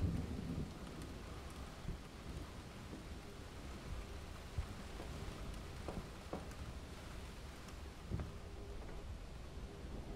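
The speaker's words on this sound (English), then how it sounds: "It's raining beautifully." Steady soft rainfall with distant rumbles of thunder in the spot-the-difference game Ten Bells, faint and continuous with no voices.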